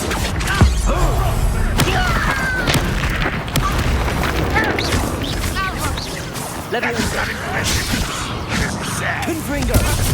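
A Confringo blasting spell exploding in a Hogwarts video game: booming magical blasts and crashing impacts pile up through a busy fight, with spoken voices heard throughout the noise.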